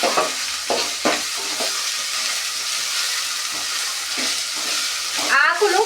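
Rice being stirred with fresh ginger paste in a pot for Telangana bagara rice, giving steady scraping and sizzling, with brief louder stirring strokes near the start and a burst of clattering at the end.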